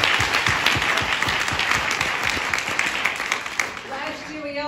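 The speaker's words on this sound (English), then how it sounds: "So let's give that a round of applause." A large audience at a Lunar New Year celebration in Brooklyn breaks into sustained, dense applause that holds steady and then thins out near the end, with voices heard under the clapping.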